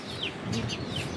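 Chicks make a few faint, high clucks and chirps at close range over a low background hum, brief and quiet.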